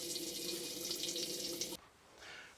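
Hot and cold water running from a tap in a Knaus Sky TI campervan, a steady hissing splash that cuts off abruptly, followed by a brief faint trickle.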